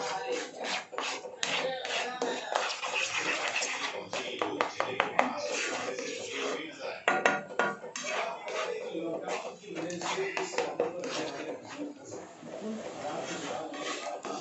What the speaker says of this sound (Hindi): इसे लगातार हिलाते रहिए।